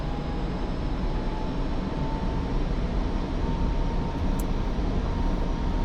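A jet fighter's engine in afterburner at takeoff in DCS World roars as a loud, steady, continuous broadband rumble with a faint whine, heard alone with no talk.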